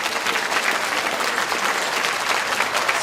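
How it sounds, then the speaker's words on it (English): Conference audience in an auditorium gives a long round of applause after a talk on storytelling, a dense, steady wash of many hands clapping at even loudness throughout, with no voices over it. "let's give him a very big round of applause"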